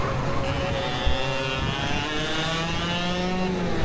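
A racing kart engine winds up hard out of a corner at a Coffs Harbour kart race, a loud close buzzing rev that climbs steadily in pitch with the rasp of other karts around it.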